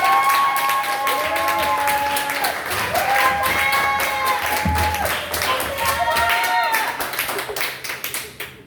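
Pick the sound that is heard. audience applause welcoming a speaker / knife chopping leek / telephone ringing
audience applause welcoming a speaker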